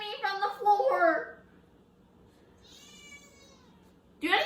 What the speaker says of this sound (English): Do any of y'all have a cat that just complains at you from the floor?